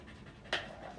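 A dog panting during training, a short close breathy burst that is fairly faint and rises midway through, with no talk.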